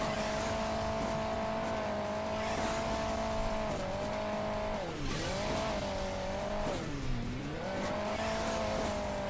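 Race car engine in Hill Climb Racing 2 droning steadily at high revs, its pitch dipping and rising twice as the car slows and accelerates, with faint tire noise underneath, loud and continuous with no voices.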